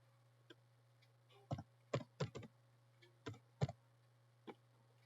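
Scattered keystrokes on a computer keyboard during code writing, a handful of close, crisp clicks in small irregular clusters over a low steady hum, with no talk.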